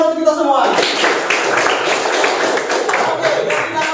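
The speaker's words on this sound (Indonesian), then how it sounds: "Tepuk tangan untuk kita semua" Students in a classroom break into brief, busy clapping after a short burst of talk, a scattered group applause that holds steady for a few seconds.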